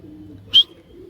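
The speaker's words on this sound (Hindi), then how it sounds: "एक और चढ़ा हुआ है फ्रेंड्स कबूतर।" A single short bird call rises sharply over faint background murmur, from pigeons kept for rooftop flying sport.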